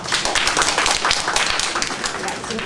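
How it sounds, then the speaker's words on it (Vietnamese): Dense, sustained applause from an audience at an author's book presentation, a steady wash of many hands clapping at once with no pauses. "Xin mọi người cho một tràng pháo tay."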